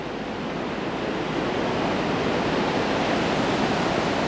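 Ocean surf breaking on the shore where the Daintree rainforest meets the sea, a steady, loud broadband wash of waves with continuous roar and no voices.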